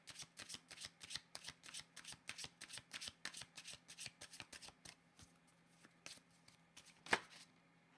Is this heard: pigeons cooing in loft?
no